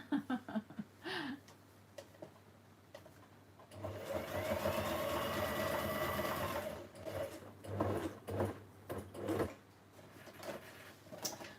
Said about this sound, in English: Hum of a sewing machine, hey Tia.